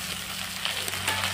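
Fish frying in hot oil seasoned with chilli powder, turmeric and cumin powder, a steady close sizzle with soft crackles and a few brief stirring scrapes.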